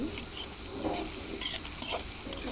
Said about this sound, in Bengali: এখন পেঁয়াজটাকে ভেজে নিচ্ছি